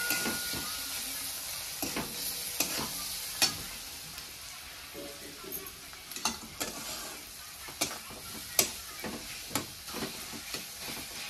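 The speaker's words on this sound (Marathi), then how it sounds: "सगळं मी हलवून घेते" Spices, coriander powder and tomato sizzling in oil for a Marathi green pea chutney are stirred in a pan, with frequent scraping strikes over a soft, steady frying hiss.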